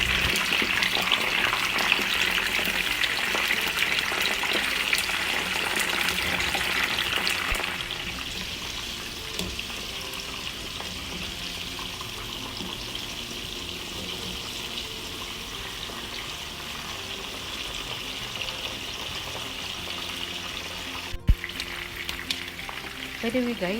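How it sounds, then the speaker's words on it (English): Bell pepper frying in hot oil gives a continuous close sizzle that is loud for the first several seconds and then eases to a steadier, softer hiss, with a brief clatter near the end and no talking. "Now we fry our bell pepper"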